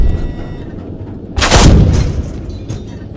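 A T72 tank's cannon fires once in a video game, a loud close boom with a rumbling tail that fades over a second or two above steady engine drone.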